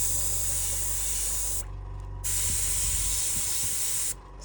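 An airbrush sprays painting medium through in loud, continuous hissing bursts, briefly cut off twice by short pauses, heard up close for a hobby miniature painting session with no talking.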